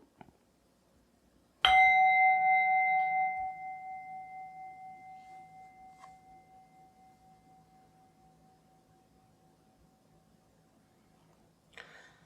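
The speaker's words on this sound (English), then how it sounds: "there'll be 1 bell to signify the beginning and 3 bells to signify the end" A single meditation bell rings to mark the start of a Buddhist compassion practice: one clear strike followed by a long, slowly fading ring lasting around ten seconds in an otherwise quiet room.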